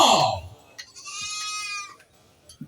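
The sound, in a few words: Etawa crossbreed (PE) goats bleating at livestock contest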